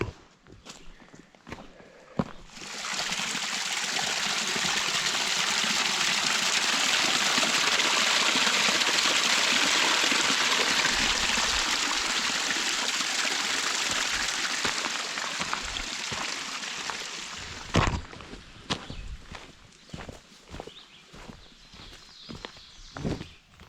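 Pleasant Stream rushes in a steady, broadband gush for about fifteen seconds during water filtering on a hiking trail, bracketed by footsteps and handling clicks before and after.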